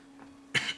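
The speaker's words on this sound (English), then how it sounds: "Sorry that I'm coughing." A single sharp cough breaks out during a Pikmin game session, close and fairly loud, with a quick second burst after it. A faint steady hum sits underneath.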